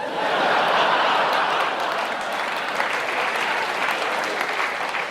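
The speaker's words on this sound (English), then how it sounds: "it's about time you applauded something" A London theatre audience breaks into sustained applause, dense, steady clapping filling the room for about five seconds with a few chuckles mixed in.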